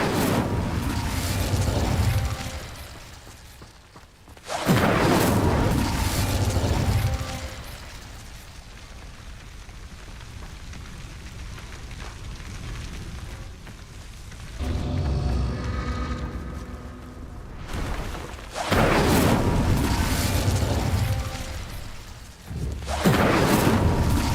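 Incendio fire spell cast in Hogwarts Legacy, a video game: loud roaring, crackling bursts of flame that come in several surges and separate long, quieter stretches of game ambience.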